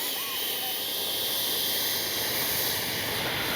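An HSD F9 Cougar 80mm ducted-fan RC model jet flies on its maiden flight, a steady loud whooshing turbine roar with high whine, continuous and unbroken throughout.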